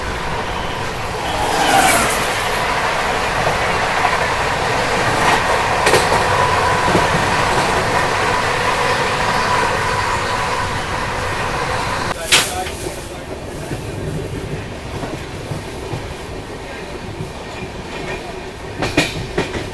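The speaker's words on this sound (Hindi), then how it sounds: "अभी देखो सामने से ये आ रही है तमिलनाडु संपर्क क्रांति एक्सप्रेस।" Tamil Nadu Sampark Kranti Express rolling past on Indian rails, heard from inside another train: a loud, steady roar with rattling wheels and metallic clatter across the whole clip, plus a sharp bang partway through.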